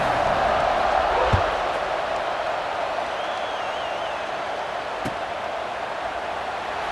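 Video game football stadium crowd in EA Sports College Football 26 holding a steady, loud roar and cheer before a kickoff, continuous throughout with a couple of brief thumps.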